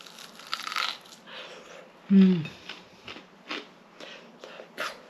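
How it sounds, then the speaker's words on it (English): A loud, close crunch of biting into a crisp homemade hash brown, followed by a few softer chewing crackles amid quiet background noise. "have a chomp on it before that. Listen to the crunch."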